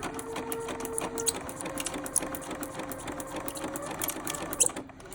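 A sewing machine stitching along a paper practice sheet runs with a steady close mechanical whir, its needle ticking rapidly and evenly throughout with a few sharper knocks near the end.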